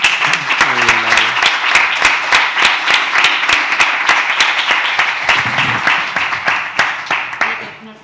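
Audience applause at a gathering on the BDS campaign in Spain, a loud, close burst of many hands clapping with sharp individual claps standing out, a voice briefly heard near the start and again toward the end.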